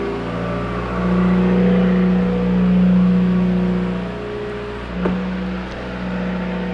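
A Subaru WRX idles and revs through a loud Tomei exhaust, a deep droning hum that swells and eases in gentle rises, with a brief sharp click near the end.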